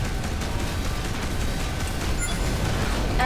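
Cannon fire and explosions from a ship battle in the space game Between the Stars, a steady dense rumbling roar of combat noise, moderately loud and continuous with no talk.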